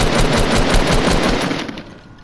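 Rapid automatic gunfire in a video game rattles in a loud continuous burst, then fades out at the end, with no speech.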